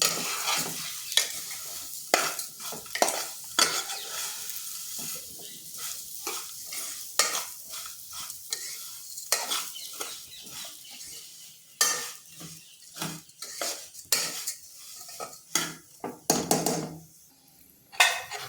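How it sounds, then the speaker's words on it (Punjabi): Vermicelli roasting in a little ghee in a pan over low gas heat, stirred steadily with scraping and clinking utensil strokes over a soft continuous sizzle, close and moderately loud with no voices. "ਆਪਾਂ ਇਹਨਾਂ ਨੂੰ ਪਹਿਲਾਂ ਮਾੜੇ ਮਾੜੇ ਸੇਕ ਦੇ ਭੁੰਨਾਂਗੇ"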